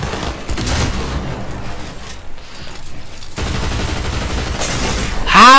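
Rapid gunfire in a competitive online shooter video game, dense bursts of automatic shots crackling loudly in two long volleys with a short lull between, followed by a sharp shattering hit at the end.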